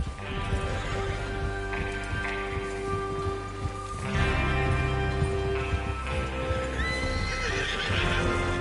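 Horses gallop in a video game, whinnying with hooves clattering in a steady clip-clop over a constant hum of background ambience, with no talking.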